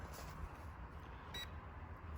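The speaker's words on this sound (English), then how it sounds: "That beep means it's paired with the main boat." A short, faint high-pitched beep from a GPS bait boat remote control pairing with the boat sounds once over quiet background hum.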